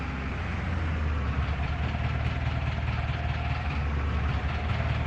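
A vehicle engine idles in Farming Simulator 25, a steady, dense, low rumble that holds constant and fills the whole clip with no voices.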